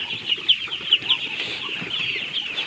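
A group of four-day-old ducklings peep continuously close by, a dense high chorus of overlapping cheeping.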